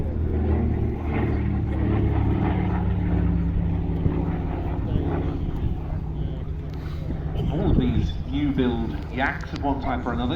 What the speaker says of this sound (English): This one is powered by the very dependable Pratt & Whitney R1830 radial of 1200 horsepower.